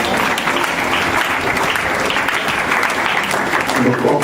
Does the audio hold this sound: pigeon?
no